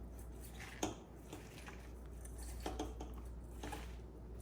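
Nigella seeds and poppy seeds stirred together in a bowl, giving soft clinking and scraping with a few sharper taps, close by and fairly quiet, with no talking.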